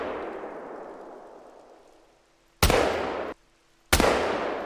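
Two loud, sharp shotgun blasts from a 20 gauge firing slugs in the hunting game Call of the Wild, each with a long decaying tail, coming after a fading echo from an earlier shot.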